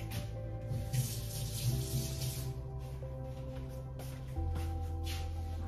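Running tap water pouring steadily while food is rinsed for a tilapia soup, a continuous close splashing hiss with shifting tone as items move under the stream.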